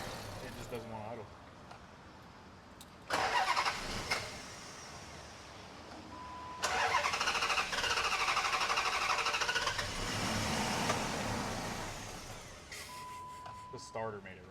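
A V8 Dodge Charger, a budget build that won't idle, cranks on its starter and fires into a rough, fluctuating run in bursts, with people talking over parts of the engine noise.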